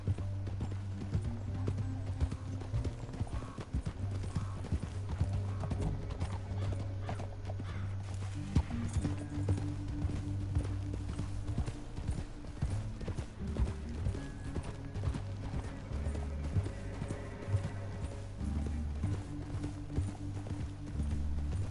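In Red Dead Redemption 2, steady clip-clop of horse hooves runs throughout over a sustained musical score, with an occasional whinny.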